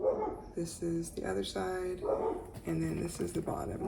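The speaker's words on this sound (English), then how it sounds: "sorry for the dogs, they're out there bothering somebody." Dogs barking outside, repeated sharp barks and yips in bursts at moderate distance, heard under a person talking close by.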